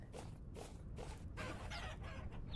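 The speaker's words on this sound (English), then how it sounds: "Did I hear little baby chickies?" Baby chicks in the Vintage Story game cheeping in quick repeated high peeps over a steady low background, moderately close.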